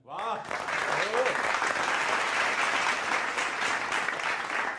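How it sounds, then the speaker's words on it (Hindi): A live audience at a Hindi comedy poetry show breaks into loud, dense clapping after a brief voice at the start, sustained and even to the end. "इस पे एक और ताली हो जाए।"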